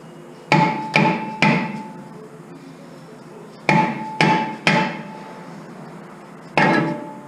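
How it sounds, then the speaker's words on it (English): A dead blow rubber mallet striking a rusted brake rotor on a 2013 Ford Expedition's front hub, delivered as three groups of sharp, loud metallic knocks in quick triplets, with one last lone hit. "Basically, we're trying to knock the rotor off."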